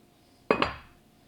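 A lid is set onto a baking pan, giving a close double metallic clank, two quick knocks in a row that ring briefly and fade out against a quiet background.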